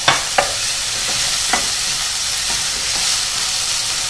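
Garlic added to browning lardons sizzling in fat in a pan over medium-high heat, a steady frying hiss with a few sharp stirring clicks and scrapes near the start and middle.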